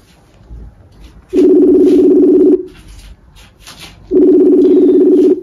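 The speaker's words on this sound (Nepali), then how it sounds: "मरे फोन उठ्दैन।" An outgoing phone call rings unanswered: two long, even ringback tones sound about three seconds apart over a quiet background.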